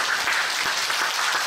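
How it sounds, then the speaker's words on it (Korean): A church congregation applauding its Sunday school teachers, a short burst of dense, steady hand clapping from many people filling the hall. "우리 교사들, 우리 교회 학교 교사들을 향해서 우리 박수 한번 줄까요?"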